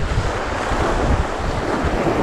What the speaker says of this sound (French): le vent se lève un petit peu.